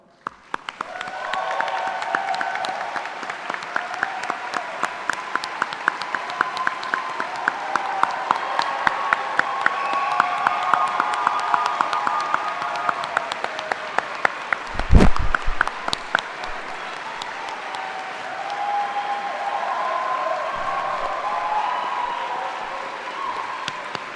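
A graduation audience at UWC Dilijan applauds the school's teaching staff, with steady dense clapping that runs loud throughout, a brief sharp thump near the middle, and no talking over it.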